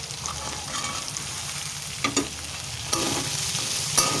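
Potato, cauliflower and green peas fry in a pan with a continuous close sizzle, broken by a few scraping stirs of a spatula, with no speech.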